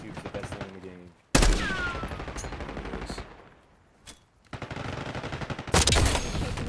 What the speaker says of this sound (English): I'm hearing sniper shots, but I don't know where it's coming from